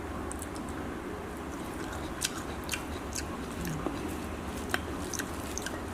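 Someone tastes Mon-style shallot chili paste, nam prik hom daeng, with soft close chewing and small wet mouth clicks over a steady, even background noise.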